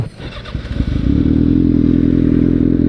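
A Kawasaki Ninja ZX-6R with a can-style Burnout aftermarket exhaust starts with clattering bursts, then settles into a steady, loud, close idle with a rough, throbbing rumble.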